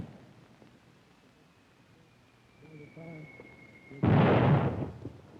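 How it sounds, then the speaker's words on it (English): A smoke charge simulating an artillery round goes off in a single loud, sharp blast that trails into a short rumble at the end, following quieter field noise and a faint hum. "Smoke charges simulate several rounds of artillery."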